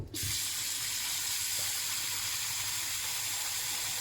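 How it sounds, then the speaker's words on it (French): Steady running water pours into a pan of rice, a continuous bright splashing hiss that starts abruptly and holds at an even level with no voices. "Vous versez de l'eau."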